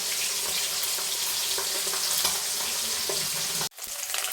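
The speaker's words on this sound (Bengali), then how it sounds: "সব মাছগুলো এভাবে ভেজে তুলে নিচ্ছি।" Fish sizzle in hot oil in a pan, a steady hissing crackle that carries on at an even level for several seconds before a brief cut, then the frying resumes.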